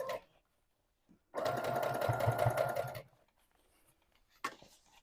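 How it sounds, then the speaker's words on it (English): A sewing machine stitches daisy lace onto a jeans hem in one steady, rapid run of about two seconds, close and clear, with quiet handling noises before and after. "3 lines of sewing around the daisy lace"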